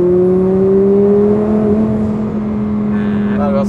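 A rear-mounted twin-turbo Audi R8 engine of over 1000 hp hums and rises in pitch as it accelerates, a steady close drone with a brief higher whine near the end.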